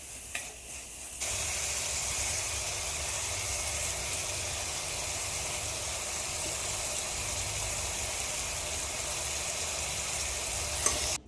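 Onions, green chillies and curry leaves sizzle steadily in hot oil, a loud continuous crackling hiss that starts after a brief quieter moment and holds for several seconds.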